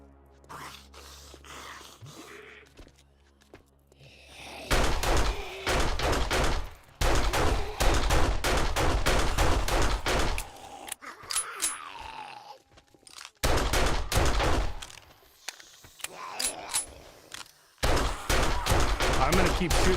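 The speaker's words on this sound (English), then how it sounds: "I'm gonna keep shooting this guy in the leg until he dies." Repeated gunfire in a survival shooter game, with sharp bursts of shots in clustered volleys separated by brief quiet gaps, loud and close, mixed with grunts and vocal sounds.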